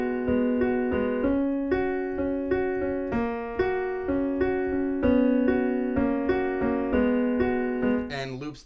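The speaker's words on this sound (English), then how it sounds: "First thing I want to show you is that little piano lick that is in the, I guess, the intro." Solo piano plays the short repeating intro lick of a song, a steady pulse of mid-register chords with a melodic top line, looping clearly for several bars before a brief flourish at the end.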